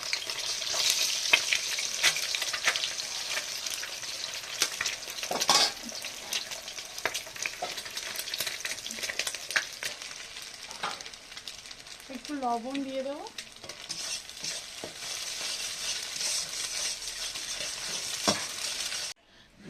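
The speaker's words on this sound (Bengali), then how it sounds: "তো ডিম আমি ফাটিয়ে ভেজে নেব" Cracked eggs fry in a hot pan for homemade mixed fried rice, with a continuous loud sizzle and occasional scrapes and clinks of stirring. A voice speaks briefly over the frying.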